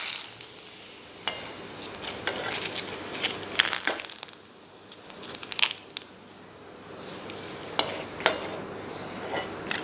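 Sabudana papad frying and puffing up in hot oil in a kadhai, a steady crackling fizz broken by several sharp bursts and louder pops, close and with no talking.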